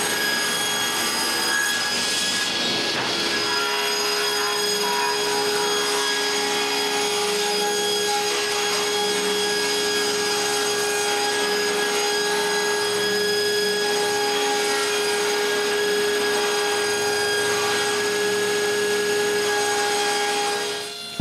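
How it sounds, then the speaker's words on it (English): Steady power saw ripping solid wood exterior panels to width for a nine-drawer dresser, a loud continuous whine with tonal hum running the whole time and a brief spike in intensity near the start. "I can rip the exterior panels to their right width"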